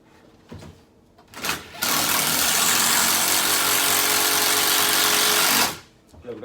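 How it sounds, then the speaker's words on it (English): Power screwdriver driving screws during assembly of a vinyl record player, a steady, loud whirring run of about four seconds, with brief handling noises before it and a voice speaking around it. "Screw that in there. And put the other screw here."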